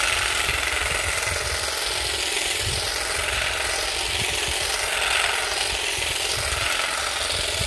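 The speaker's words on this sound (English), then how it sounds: "let's try this trimmer on the grass and see what it comes" Einhell GE-CG 12 Li cordless grass and shrub shears cut into grass outdoors, giving a steady close buzzing motor drone with irregular rattling chatter from the blade running throughout.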